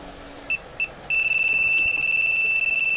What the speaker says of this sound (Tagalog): Nag-alarm yan.